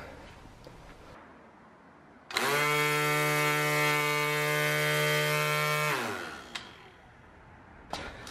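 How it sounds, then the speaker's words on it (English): A Worx 20V cordless weed whacker spins up with a steady, loud electric motor whine for a few seconds, then winds down, heard close with no talk. "Let me fire up the weed whacker here."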